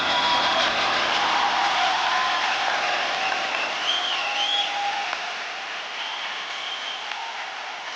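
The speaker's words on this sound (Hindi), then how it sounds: "जोरदार तालियां स्वागत कीजिए।" Dense, steady applause from a studio audience at a televised comedy show, loud and sustained with faint whoops riding on top, easing slightly toward the end.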